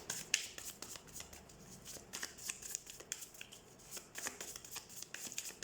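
Tarot cards being shuffled in a rapid, irregular run of soft papery riffles and flicks, close and fairly quiet, continuing without pause and with no speech.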